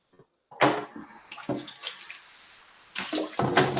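Liquid streams into an empty glass for a Rajin Cajun cocktail served straight up with no ice, a bright splashing pour in several bursts with brief pauses, close and clear.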